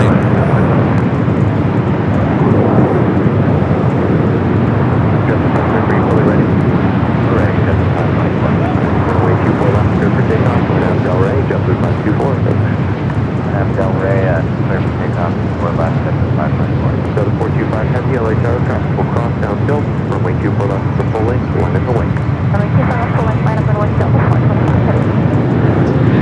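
Heavy jet airliner landing on runway 24 Right at LAX, a loud, steady broadband roar that holds for the whole stretch, with people talking over it.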